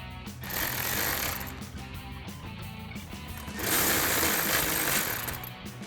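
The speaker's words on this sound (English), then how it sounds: "So we'll grab our 10mm socket on our ratchet. Go ahead and remove our negative terminal nut." A ratchet with a 10mm socket loosens the negative battery terminal nut on a 2016-2023 Toyota Tacoma, giving rapid close clicking in two dense bursts with a short pause between them.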